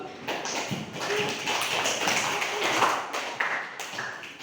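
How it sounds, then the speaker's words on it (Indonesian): A classroom group claps for the visual group during an Arabic language lesson at an Islamic elementary school, with continuous, brisk clapping from several people, close and even throughout. "Oke, tepuk tangan untuk kelompok visual."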